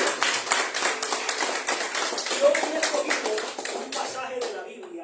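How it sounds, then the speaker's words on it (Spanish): Church congregation clapping in praise, a dense, continuous patter of many hands that holds for several seconds and then thins out near the end. "Demos un aplauso a Dios."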